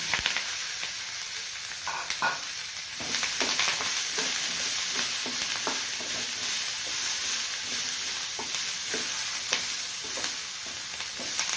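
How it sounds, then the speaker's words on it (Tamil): Boiled groundnuts frying with curry leaves, salt and spice powder in a pan make a steady close sizzle. Scraping stirring strokes recur throughout, and no one speaks. "சேர்த்து ஒரு கிளறி விட்டுட்டு"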